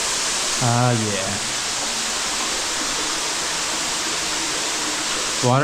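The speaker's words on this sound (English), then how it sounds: "Waterfall in a cave." A waterfall inside a cave roars as a loud, steady broadband rush that fills the whole clip, and a voice briefly speaks over it at the start and the end.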